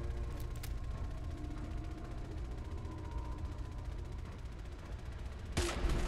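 Grenade launcher fire in a modded Fallout 4 fight against turrets, with a low continuous rumble of combat giving way to a sudden loud, sharp blast near the end.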